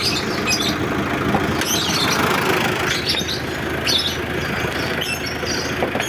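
A Mitsubishi L200 diesel engine idles with the hood open, a steady close mechanical hum and rattle running throughout, with bird chirps audible in the background.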